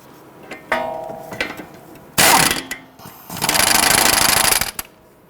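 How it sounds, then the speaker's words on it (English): Work on the 18mm upper control arm nut at the steering knuckle of a 2011-2023 Dodge Charger: light metallic clinks, then a loud short power-tool burst and a longer rattling hammering run, close up. "On the upper control arm here to the knuckle, I want to loosen and remove this nut here."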